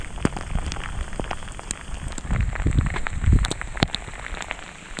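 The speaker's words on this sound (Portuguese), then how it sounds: "Agora tá chovendo." Steady rain falls on a mountain trail in the Dolomites during a storm, a dense patter of drops close by with scattered louder splashes and no voices.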